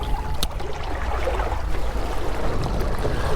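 A boat driven by an ePropulsion Spirit 1.0 Evo electric outboard motor moves through water with a steady rushing wash and hull splash, the quiet motor barely distinct beneath the continuous water noise.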